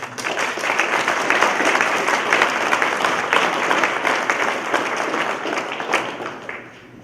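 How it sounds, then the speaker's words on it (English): A crowd at a school board meeting gives warm applause to honor students for sportsmanship, sustained clapping lasting around seven seconds before tapering off near the end. "A well-deserved round of applause."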